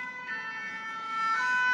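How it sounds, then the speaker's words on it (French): Fire engine siren wailing as it passes on a street, steady tones rising slightly in loudness toward the end, with no voices over it. "et voilà maintenant les pompiers, qui sont ceci dit très jolis, mais qui forcément, je vais attendre qu'ils passent"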